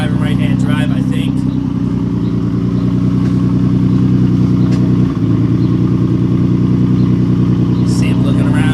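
A Nissan R32 Skyline GTR driven by a first-time right-hand-drive driver, its engine droning loud and steady throughout with a brief dip in pitch midway, heard from inside or close by.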